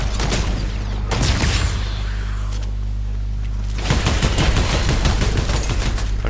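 Gunfire in Fortnite's Horde Rush mode: dense bursts of rapid shots over a constant droning game background, with a heavier flurry near the start and another sustained volley in the second half.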